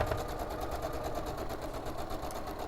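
A sewing machine runs steadily stitching a quarter-inch seam in fabric, a loud close continuous whirring with a fast even needle rhythm throughout.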